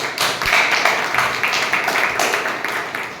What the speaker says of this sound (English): A big round of applause for all the role players,